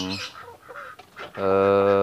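Free-range village chickens cluck and call in a coop where a broody hen is being placed, with a loud sustained harmonic squawk at the end following softer murmuring clucks.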